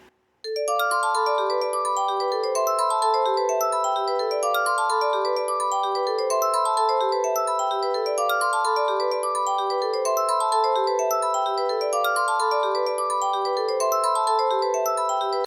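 Bright synthesized chords play as fast, evenly spaced arpeggios, notes rippling up and down in a steady, continuous pattern with no voices.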